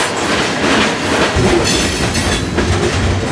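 A freight train ridden from on board roars steadily and close beside a rail yard fuel pad, its wheels clattering in a rhythmic clickety-clack. A few brief squeals rise above the rumble.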